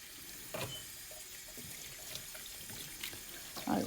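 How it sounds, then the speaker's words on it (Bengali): Leafy greens being rinsed under a running kitchen tap to wash out sand, a faint steady water hiss with soft splashes and handling sounds. "তো আমি এখন ভালো করে শাকগুলো ধুয়ে নিব যাতে বালি না থাকে।"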